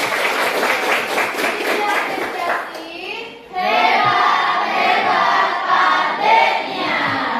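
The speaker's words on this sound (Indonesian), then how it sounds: "Tepuk tangan buat Pak Deni." A classroom group claps in quick rhythmic bursts, then the clapping thins as many voices, including children's, cheer and chatter loudly nearby.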